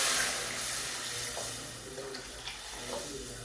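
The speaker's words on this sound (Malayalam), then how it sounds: "സാധാരണ വെള്ളം തിളപ്പിച്ച് ഞാൻ ഇതിൻ്റെ ഒഴിക്കുന്നു." Freshly boiled water is poured into a pan of fish curry, giving a steady, fairly quiet rushing splash that runs unbroken for a few seconds without any speech.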